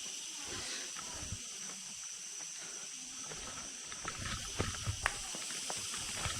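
Steady roar of rushing water at Bad Aapkhol waterfall in Bargarh, Odisha: a broad hiss that holds at constant loudness, with a few brief louder splashes near the end.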